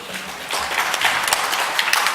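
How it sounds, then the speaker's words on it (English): Conference audience applause in a hall, a moderately loud, dense patter of clapping that swells slightly after a quieter start and continues steadily. "a big applause for him,"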